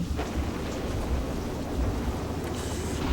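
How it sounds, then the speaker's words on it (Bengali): Heavy rain pours down steadily, a dense hiss with deep rumbling thunder rolling underneath and gusts of wind, loud and continuous throughout. "সারা রাতেও এই বৃষ্টি থামবে বলে তো মনে হচ্ছে না।"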